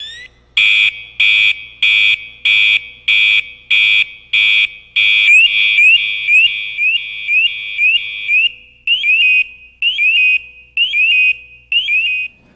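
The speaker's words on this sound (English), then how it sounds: "This tells the operator or the wearer that their device is ready to alert if they get a low alarm condition or low air pressure" A firefighter's PASS device sounds its alarm: loud, shrill, close electronic tones, first as a series of evenly spaced beeps, then as a rapid warbling chirp pattern repeated in short bursts, with no voices.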